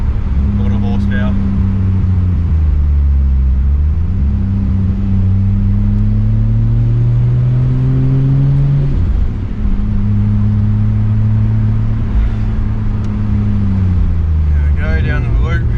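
A Ford FG XR6 Turbo with the Barra engine revs loudly and steadily for about sixteen seconds while its rear wheels spin. The engine pitch rises and falls, and faint voices are heard briefly.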